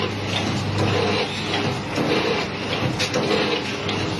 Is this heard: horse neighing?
no